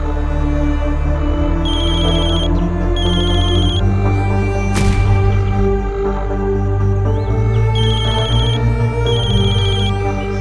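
A telephone rings in repeated bursts of bright electronic trilling tones, separated by short pauses, over a steady background of music or ambient sound with no speech.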